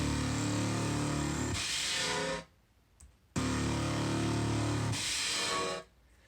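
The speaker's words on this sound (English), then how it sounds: "when you let go of the note, you get this sort of tail of reverb that sounds like metallic industrial noise" A Serum synth patch plays two loud, sustained, gritty notes. Each note breaks into a hissing, metallic, industrial-sounding reverb tail that decays quickly into near silence.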